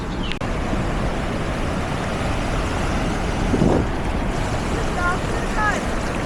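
Sea waves and wind sweep along the Konkan coast at Dapoli, a continuous loud rushing wash with heavy wind buffeting on the microphone and faint voices in the background.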